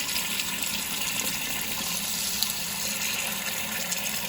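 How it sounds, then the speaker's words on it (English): Cold water runs steadily from a tap for washing a baseball cap, a constant close splashing hiss with no break. "I'm gonna use cold water to help keep the color in"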